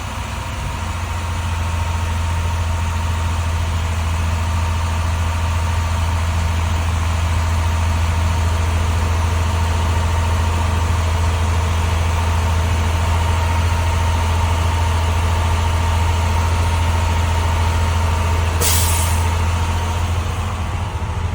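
School bus diesel engine idling while it builds air brake pressure, a steady loud low rumble that runs unchanged throughout with one brief hiss near the end and no talking.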